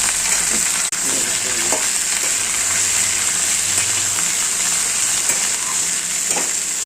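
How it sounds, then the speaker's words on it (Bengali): Potatoes, taro and carrots fry in hot mustard oil in a wok, a loud continuous sizzle with a few soft stirring scrapes and no talking. "তেল গরম হয়ে গেছে, এতে আলু, কচুরগাঠি, গাজর দিয়ে দিলাম। একটু এটাকে নেড়ে চেড়ে নেব।"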